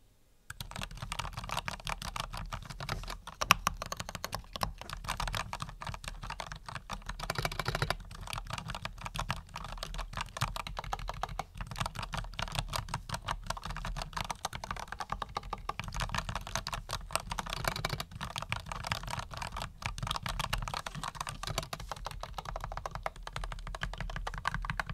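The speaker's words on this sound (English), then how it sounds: "So normal typing on this keyboard will still make sound, but it's not very loud." Continuous rapid typing on a mechanical keyboard, dense clacking keystrokes at a steady pace, fairly close but not loud, with no voices.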